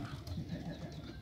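Wild quail kept in a breeding enclosure, giving soft, low cooing calls that are faint and close, heard alone for a moment.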